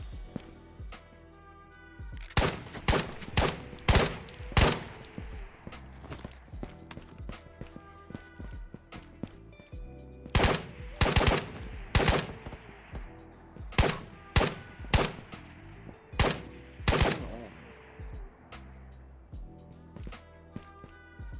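Gunfire in the Ghosts of Tabor VR shooter game, sharp loud cracks in irregular bursts and rapid strings of shots spread throughout, some close and some trailing off, with no talk.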